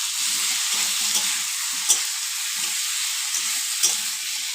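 Spices, including coriander, cumin and Kashmiri red chilli powder, fry in a pan with a steady, loud hiss, while a spatula scrapes and stirs in repeated soft bursts, with a few sharper clinks.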